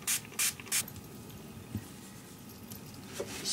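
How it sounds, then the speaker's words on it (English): Spray bottle misting water onto die-cut paper poinsettias, three quick close hissing bursts at the start followed by quieter rustling and a faint later spritz. "And I spray them 2 by 2 because I don't want to get them too dry."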